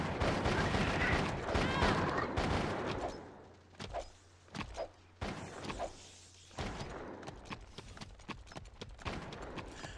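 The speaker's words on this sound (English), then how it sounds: "Why are they shooting me?" Enemy gunfire in the action game Jak 3, sharp irregular shots cracking in short bursts, loud at first under busy game noise, then sparser pops spaced through a quieter stretch.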